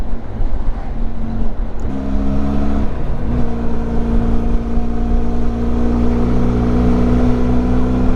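A Honda CB150 motorcycle drones steadily on a touring ride, its engine hum close and continuous alongside constant wind and road rumble. There is a brief shift in pitch near the two-second mark and again near three seconds, with no one talking.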